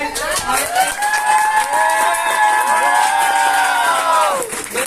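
A crowd at a New Year party claps and cheers for a group of friends, loud and continuous, with voices shouting and calling out over the applause until it fades at the end.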